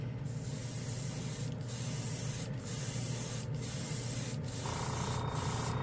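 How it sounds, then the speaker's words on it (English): A Gaahleri trigger airbrush fed by a dual port compressor hisses steadily and close by, spraying paint onto a spoon, with brief regular breaks where the spray cuts out before starting again. "Let's go ahead and spray a spoon."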